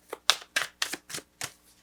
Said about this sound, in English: Let me just shuffle these cards a little bit more